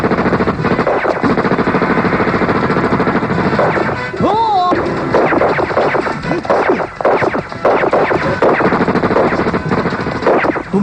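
Loud, sustained machine gun fire from a TV serial battle scene, with rapid bursts of crackling shots and impacts running almost nonstop and a brief shouted voice rising above the gunfire.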